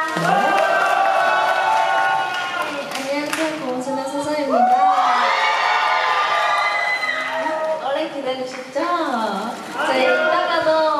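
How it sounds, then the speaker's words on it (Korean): Fans of the K-pop group GWSN cheer and scream loudly and continuously inside YES24 Live Hall in Seoul, a dense crowd roar with shrill voices rising and falling throughout. "멤버들 소개할 때마다 함성이 장난이 아닙니다"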